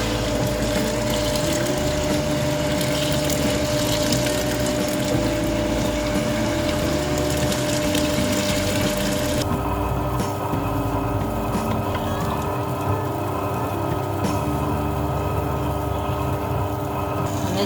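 A wet grinder churns soaked poha with a little water into smooth dosa batter, giving a steady, loud mechanical whir and sloshing that runs unbroken throughout, with a slight change in tone partway through.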